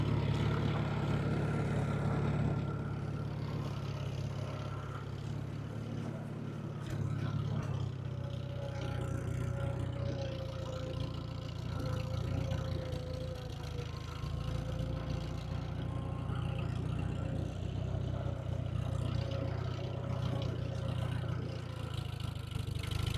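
An International tractor engine running steadily, a continuous low mechanical drone with light clatter and a faint whine, close and even throughout.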